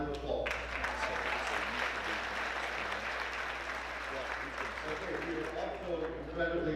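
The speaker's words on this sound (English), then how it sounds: "How about a round of applause?" An audience at an award ceremony applauds steadily throughout, a dense, sustained clatter of clapping hands with a voice speaking over it.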